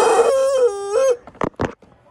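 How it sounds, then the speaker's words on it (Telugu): A toy rooster in a Walmart store lets out one loud, close electronic crow lasting about a second, followed by a couple of short squawks and then quiet. "ఇక్కడ చూడండి, ఒక విచిత్రం కోడి చూపిస్తాం మీకు."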